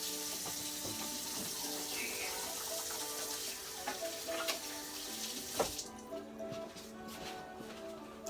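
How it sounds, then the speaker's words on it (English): Hands being washed under a running tap, a steady broadband rush of water with small splashes and knocks, easing toward the end. "Let me wash my hands."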